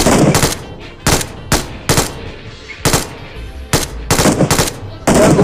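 Gunfire in the battle royale video game PUBG, about ten loud sharp shots and short bursts spaced irregularly, close and punchy with quiet gaps between.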